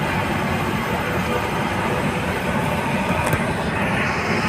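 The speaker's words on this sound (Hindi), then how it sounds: "काशी विश्वनाथ एक्सप्रेस ट्रेन प्रस्थान कर रही है।" The Kashi Vishwanath Express pulls out of Pirthiganj railway station with a continuous loud rumble of wheels and rolling stock close by, steady throughout with no clear voices.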